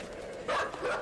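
A dog in the video game Inside gives a short yelp-like bark, moderately close, over a faint game background.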